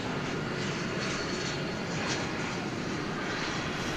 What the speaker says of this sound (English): show you the Turkish Dreamliner going to Istanbul